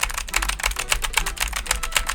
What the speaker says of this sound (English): that Apex SteelSeries, that has some clickety clacks.